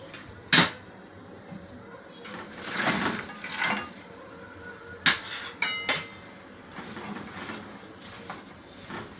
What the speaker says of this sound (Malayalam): ഇനി നമുക്ക് ഞണ്ട് കുടഞ്ഞിടാമേ